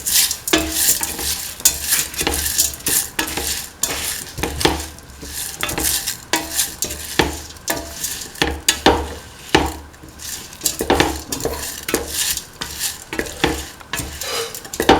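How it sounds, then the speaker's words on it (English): A utensil stirs mung beans with salt in a hot pan in quick, repeated scrapes and clacks over a soft sizzle, loud and close with no talking. "Now put in the mung beans, salt, and mix thoroughly."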